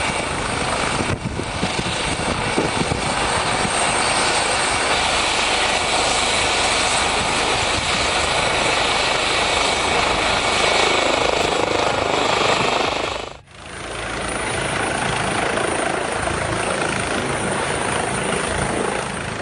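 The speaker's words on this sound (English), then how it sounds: "The Eurocopter EC-135 helicopter became stuck in thick snow" A Eurocopter EC-135 helicopter stuck in thick snow roars with dense, continuous rotor and turbine noise, loud and close, dipping briefly for a moment before resuming at full intensity.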